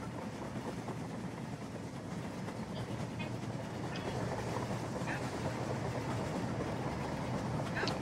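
A model train rolls along a track in the game Rolling Line, a steady low rumble with faint rhythmic clicks of wheels, continuous and fairly quiet throughout.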